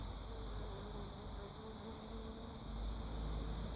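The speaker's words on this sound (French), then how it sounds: "je ne sais pas si vous arrivez à voir les insectes, les abeilles qu'il y a ici" Bees and other insects hum softly and continuously in a permaculture vegetable garden, a faint steady buzz under light background noise.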